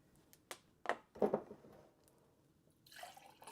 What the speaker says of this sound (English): Spilled water.